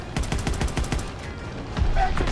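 Rapid gunfire rattles in steady bursts during a Call of Duty WW2 tank mission in a Sherman tank, loud and close throughout.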